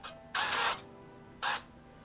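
Avocado oil cooking spray hisses into small baking tins for banana bread: a longer burst followed by a shorter one, close and fairly soft, with quiet room tone between them.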